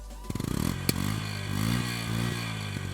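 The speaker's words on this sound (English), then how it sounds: "please take a moment and listen to the sound of this bike" A Yamaha XTZ 125 dirt bike engine starts with quick popping pulses, then settles into a steady, moderately loud idle with slight revs, heard up close at the exhaust.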